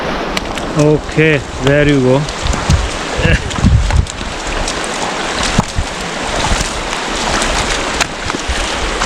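Someone wades into the cold Virgin River in the Zion Narrows slot canyon, steady splashing and sloshing water filling the scene close by after a short burst of speech near the start.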